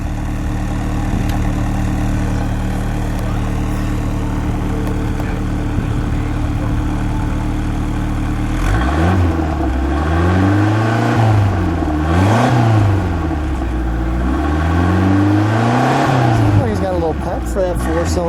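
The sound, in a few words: 1986 Chrysler LeBaron 4-cylinder engine idling and revving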